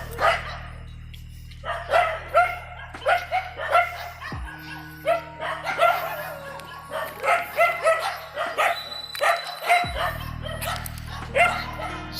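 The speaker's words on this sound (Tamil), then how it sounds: "நாய்கள் இருக்கு." Several dogs bark at a cremation ground at night, repeated sharp woofs and yips coming in irregular bursts, fairly close, with a steady low hum underneath.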